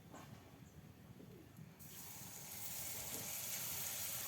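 Palm fritter batter dropped into hot oil bursts into a loud, broad hissing sizzle that swells and holds steady after a quieter opening, heard close with no talking.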